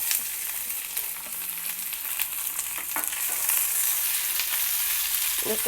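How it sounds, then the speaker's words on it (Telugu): Cumin, coriander seeds and onion pieces fry in hot oil, giving a continuous crackling sizzle for several seconds with occasional light scrapes from stirring. No voices are heard. "వేసి ఉల్లిపాయ ముక్కలు కూడా వేసి వేయించుకోవాలి 1 నిమిషము"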